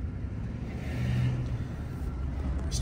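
A high-mileage work truck's engine drones steadily while driving, a constant low rumble with a slight swell in the middle, heard from inside the cab with no talking.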